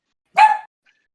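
A single short bark from a pet dog, close by and fairly loud, lasting about a quarter second and followed by silence.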